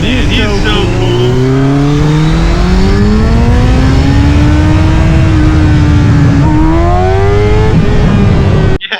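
A Honda Africa Twin motorcycle revs hard and accelerates, its engine note climbing steeply through the gears in a loud, close, sustained pull, with a brief pause near the end.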